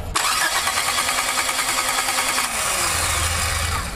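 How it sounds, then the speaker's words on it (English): Car engine with a no-spark fault cranking on the starter, a loud, close, steady whirring churn that holds for the full few seconds without catching. "Crank the engine, please."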